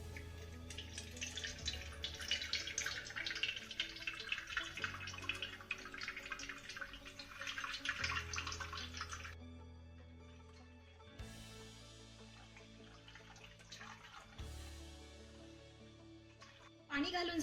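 Water is poured into a cooking pot whose mouth is tied tightly with a cloth, about one to one and a half glasses, running steadily for several seconds before tapering to drips.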